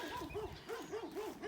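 A dog on a goat farm gives a quick run of rhythmic, yelping barks, about five in a row, faint and somewhat distant.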